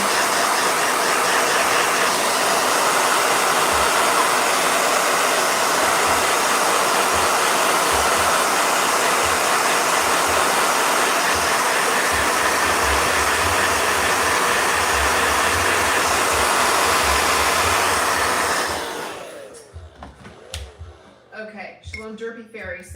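A blow dryer roars loudly and continuously for about nineteen seconds, then switches off, leaving quieter background sounds.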